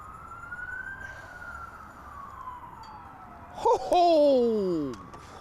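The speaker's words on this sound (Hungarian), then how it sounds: "jön a mentő" An ambulance siren passes close by on a road, its wailing tone sweeping and sliding downward in pitch as the vehicle goes past, loud and brief amid outdoor background noise.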